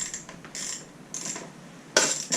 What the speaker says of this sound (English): over here we'll just use a 10mm like you're supposed to